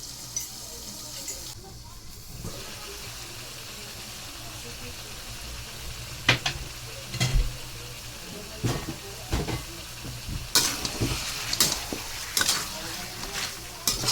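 Chicken sour soup is stirred in a pot with a series of scraping, clinking spoon strokes that build toward the end, over a steady background hiss.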